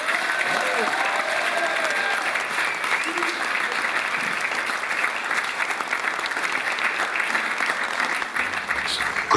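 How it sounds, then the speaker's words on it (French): An audience at a ciné-concert applauds the conductor Cédric with dense, sustained clapping that fills the whole stretch at a steady volume, with some crowd voices mixed in. "Et je vous demande de l'acclamer."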